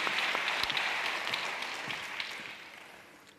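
Audience applause fills the hall at the opening session of a national public library conference, a steady dense clapping from a crowd that gradually fades toward the end, with no voices over it.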